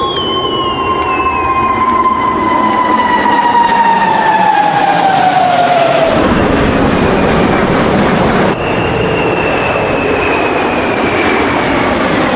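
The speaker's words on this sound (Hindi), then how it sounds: "आसमान में अमेरिकी विमान गर्जना कर रहे हैं।" A loud, continuous jet engine roar with a descending whine as American military jets pass close overhead at an Independence Day celebration on the National Mall in Washington, DC, sustained and powerful throughout.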